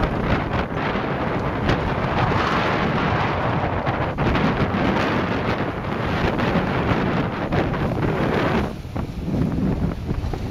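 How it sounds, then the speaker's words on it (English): Strong wind of about 20 knots buffets the microphone aboard a sailing ship at sea in a constant, heavy roar, with rushing water and sea noise underneath, briefly easing near the end. "Now we got probably 20 knots of wind"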